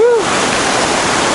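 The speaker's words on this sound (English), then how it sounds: "This one is going over that big waterfall" A big waterfall roaring below a bridge on the Ala Kul trek in Kyrgyzstan, a loud, steady rush of falling water heard nearby, with a brief higher sound at the very start.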